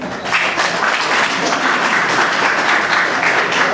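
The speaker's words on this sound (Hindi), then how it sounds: "एसपी साहब के लिए ताली बजाओ।" Applause from an audience at a disaster management and risk reduction training session, a steady dense wash of clapping that holds loud from start to finish.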